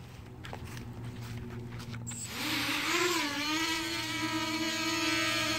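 A small LS-210 quadcopter with EpicRC 3200kv motors, 30A LittleBee ESCs and a 4S 1800mAh battery throttles up from a low idle whir into a loud, steady high-pitched buzz as it lifts off and hovers, with the pitch wavering.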